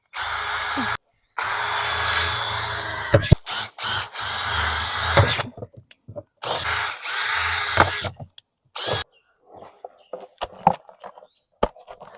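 A power drill whirs loudly in several bursts, starting and stopping as it bores through planter pots, with brief pauses and small clicks between runs.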